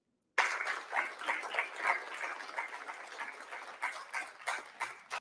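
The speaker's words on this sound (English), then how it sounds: "you guys hear all the applause there?" Recorded applause played back as a sound test for a TEDx talk, a steady patter of many hands clapping, fairly quiet and heard alone after a brief silent start.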